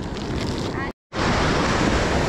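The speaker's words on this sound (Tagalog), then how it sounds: "Lakas ng alon." Strong ocean surf crashes continuously on a beach in Salalah, Oman, with steady wind buffeting the microphone; the roar is loud and broadband and cuts out briefly for a moment before resuming at full strength.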